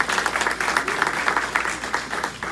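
An audience at a Collinsville Township special meeting gives the police a round of applause: dense, steady clapping from a roomful of people, fairly close and sustained throughout.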